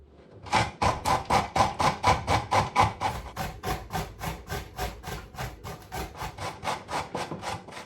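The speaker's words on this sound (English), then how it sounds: "Now I've chopped my pumpkin, I'm going to grate it." Raw pumpkin chunks rubbed against a grater in steady, rapid back-and-forth rasping strokes, close and fairly loud, about twenty strokes in an even rhythm with no speech.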